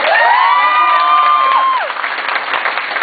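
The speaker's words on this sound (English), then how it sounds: "Can we clap up for that?" Audience at a stand-up comedy show in Walnut Creek bursts into loud applause with cheers and whoops, sustained clapping fading slightly toward the end.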